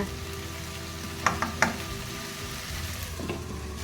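Okra (lady's finger) sautéing in a pan for a tamarind curry, giving a steady close sizzle with a few sharp stirring clicks and scrapes partway through.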